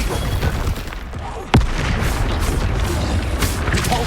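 A fiery spell explosion in the Hogwarts Legacy video game, a sharp single boom bursting out of dense, busy battle noise with other thuds and crackles around it.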